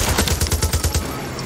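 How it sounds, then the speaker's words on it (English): An anti-air gun fires in the video game Far Cry 6, a loud, close stream of rapid, evenly spaced booming shots that stops abruptly after about a second. "That gun is an anti-air gun right there."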